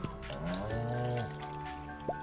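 Farm animals being milked in Stardew Valley produce a drawn-out, cartoonish moo with a sliding pitch, followed by a quieter tone and a short chirping blip near the end, with no talk.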